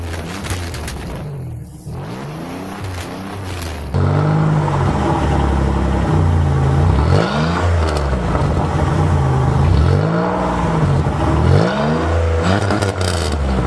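A 2000-05 Chevy Impala 9C1 police package with a 200-horsepower 3.8 liter V6 engine accelerates, its loud engine note rising and falling in steady sweeps that build as it revs through the gears.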